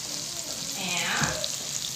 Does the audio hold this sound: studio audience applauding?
no